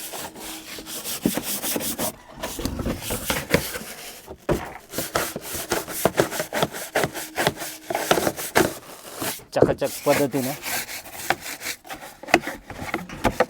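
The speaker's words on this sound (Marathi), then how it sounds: "निरमा टाकून आपण घासायला सुरुवात केलेली आहे" A wooden chair being scrubbed with Nirma detergent, heard as rapid, continuous rough brushing strokes in a dense rhythmic rasp, close and loud, pausing briefly now and then.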